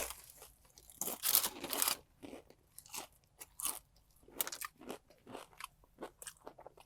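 Crunchy fried chicken being bitten and chewed up close, with loud crackling bursts of crust breaking followed by quieter, irregular chewing crunches, with no talking.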